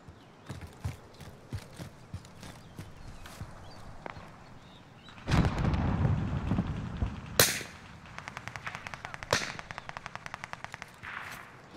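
Rapid gunfire in a battle royale shooter match, with scattered single shots early on, a loud burst around the middle and a fast rattling automatic volley near the end, no talking.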